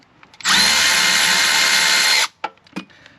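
A power tool backs out a 10mm bolt on a 2022 or later Kawasaki Ultra 310 series jet ski. It makes a loud, close whir lasting nearly two seconds, followed by a few short clicks and clatters.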